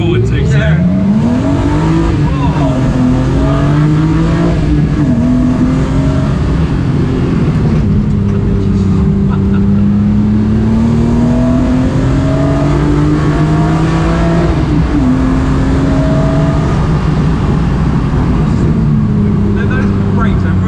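A BMW E36 M3 road and race car engine revs while driving, its loud engine note rising and falling through gear changes, close-up from inside the cabin with occasional talk beneath.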